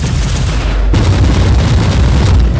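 Mortar fire and explosions in Warhammer 40,000: Inquisitor – Martyr, a loud, continuous battlefield roar of heavy booms and bursts with a sharp break near the start, then a steady, rumbling barrage.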